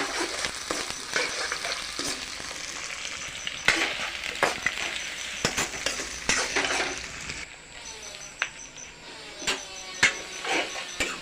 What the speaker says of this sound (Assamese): পিঁয়াজ, আদা, ৰচুন, জলকীয়া ইত্যাদি মিহলি কৰি অলপ গৰম কৰি লৈছোঁ।